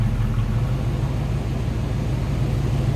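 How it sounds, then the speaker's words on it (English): The 307 V8 engine of a 1983 Oldsmobile Cutlass Hurst/Olds idles with a deep, steady rumble, close and continuous, with no talking. "Nice little rumble coming out of that 307 underneath the hood."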